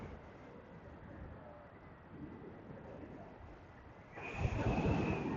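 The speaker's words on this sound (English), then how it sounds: "But that wind is thick, man." Wind rushes over the microphone while cycling north on Chicago's Lakefront Trail, a steady low buffeting that swells into a louder gust near the end.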